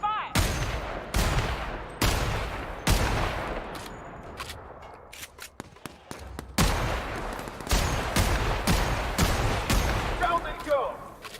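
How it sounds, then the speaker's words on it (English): A volley of gunfire cracks out as sharp, loud single shots in uneven bursts, with a rapid cluster of quicker shots in the middle and a voice heard faintly alongside. "Opening fire!"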